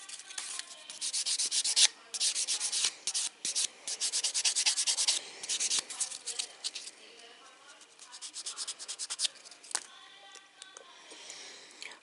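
Fingernails being buffed during a man's manicure, with bursts of quick, close, dry rubbing strokes that start and stop in an uneven rhythm, fairly soft and with no talking.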